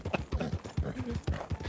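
Rhythmic hoof clip-clop of a horse in the video game Red Dead Redemption 2, moderately close, with a few soft voice-like sounds mixed in.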